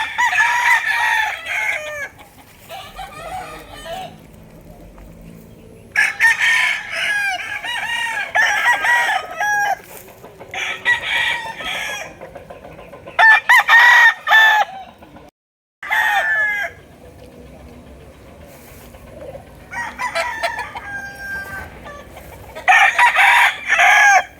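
Gamecock roosters on a small backyard farm in Ternate crow loudly again and again in long bursts, with scattered clucking from other fowl between the calls.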